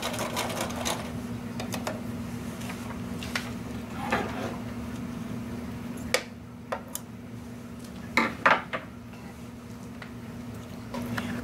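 Sewing machine stitching binding onto an old towel turned into a dish drying mat, back-tacking to lock the seam; a steady low mechanical hum with light ticking and a few sharper knocks, heard alone.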